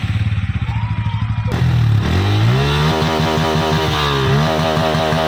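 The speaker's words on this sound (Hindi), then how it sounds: "तो अब N160 का आप एग्जॉस्ट साउंड देख सकते हैं।" Honda Pulsar N160 motorcycle exhaust note: after a brief lead-in, a steady loud idle rises into repeated throttle blips with a throaty, burbling rumble, revving up and settling back several times, close to the tailpipe with no talking.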